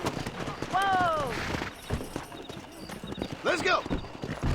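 Wild horses gallop with rhythmic clip-clop hoofbeats in the Western video game Red Dead Redemption, a whinny rising over the run while someone talks briefly in between.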